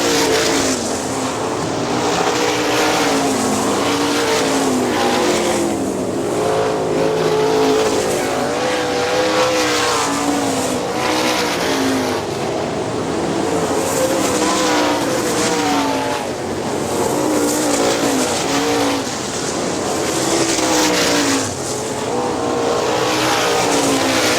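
410 sprint cars racing at Hartford Speedway Park in Michigan, loud engines roaring and revving continuously with passing surges and occasional tire squeal for the full stretch.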